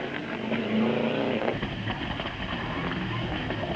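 A rally car races along a dirt stage at the 1998 Sligo Stages Rally, its engine revving loudly and swelling briefly as it passes, with gravel noise beneath.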